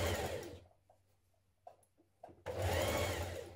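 Sewing machine stitching a seam on a New Look 6301 dress: a loud steady whirring run, a pause with a few soft handling clicks, then the motor buzzing loudly again, close by.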